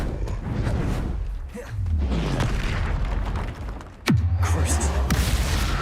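Confringo spell blasts in Hogwarts Legacy, booming impacts with whooshing swells and a sharp strong burst near the end, loud and close, amid other game effects.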